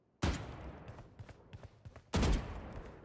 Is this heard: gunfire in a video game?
yes